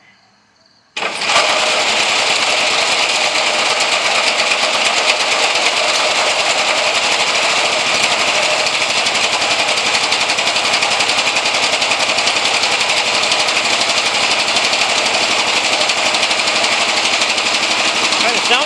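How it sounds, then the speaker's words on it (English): Three lawnmower engines joined into a homemade three-cylinder engine start up and run continuously at a loud, steady, buzzing roar. The sound holds unbroken for about eighteen seconds with no talk over it. "trying for a run of the 3 lawnmower engines on the right here"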